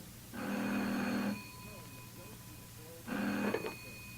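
Old-style telephone in an Australian courtroom radio drama rings in two bursts, a long ring followed after a pause by a shorter one, clear and close with a quiet background between.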